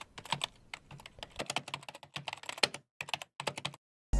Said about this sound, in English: keyboard clicking,